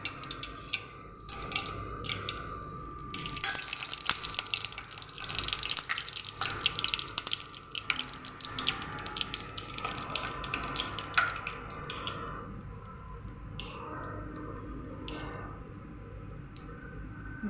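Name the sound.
mustard seeds spluttering in hot oil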